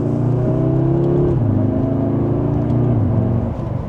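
A 2026 Audi S3 heard from inside while accelerating in second gear in dynamic plus mode: a steady engine drone climbs in pitch, steps down at about one and a half seconds, climbs again and eases off toward the end.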